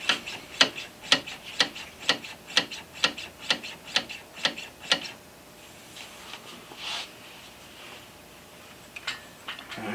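Honda Shadow 750 motorcycle brake lever pumped repeatedly, giving about a dozen evenly spaced sharp mechanical clicks up close, then fading to quiet with faint scattered handling noise.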